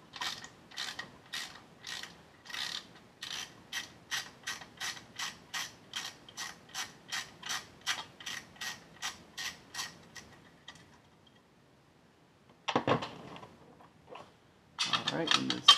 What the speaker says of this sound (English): this is just one screw and two nuts that we get off right here